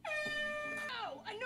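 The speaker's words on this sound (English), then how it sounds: "Was the air horn really necessary?" Air horn blast in a She-Hulk: Attorney at Law episode, a single loud sustained horn tone with steady harmonics lasting about a second, followed by someone speaking.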